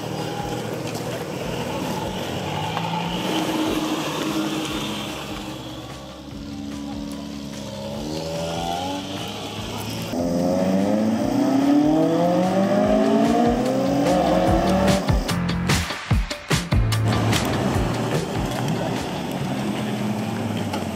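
An AE86, an S2000 and a Z34 make a practice run on a mountain pass, with steady engine drone, rising and falling revs as gears shift, and a rough burst of noise partway through.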